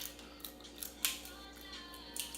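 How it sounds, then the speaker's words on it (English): Scissors snip faintly during a seafood boil meal, with a few small crisp clicks scattered over a quiet background and one sharper snip near the middle. "Don't give me the damn kindergarten scissors."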